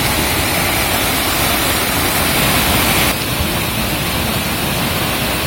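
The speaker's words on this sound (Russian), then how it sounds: "Тут спускается водопад." The 12-metre Kamyshlinsky waterfall pours in a loud, unbroken rushing roar heard up close, a steady wash of falling water with no other sounds.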